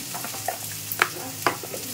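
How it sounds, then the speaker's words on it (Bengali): Gathi kochu (taro) frying in oil in a pan, a steady soft sizzle with a few light clicks of a spoon against the pan, no voices. "এই যেটা ভাজা হচ্ছে, ভাজা হোক"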